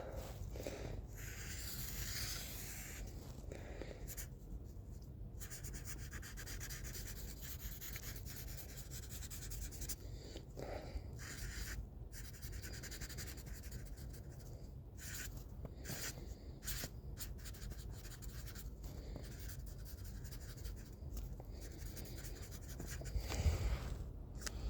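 A Sharpie marker squeaks and scratches across paper in quick, faint strokes, close up, with short pauses between lines and no talking.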